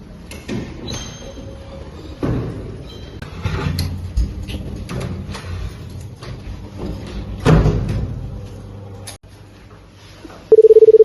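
A telephone handset rattles and clicks through a dialing sequence, with scattered knocks and thumps across several seconds, ending in a loud, steady tone near the end.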